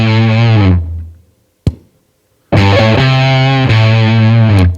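Electric guitar played through an Old Blood Noise Endeavors Haunt Fuzz pedal with the mix fully up and the gate off: a loud, thick, sustained fuzzed chord that fades, a sharp pick click, then another long buzzing chord that shifts pitch partway, with no talking.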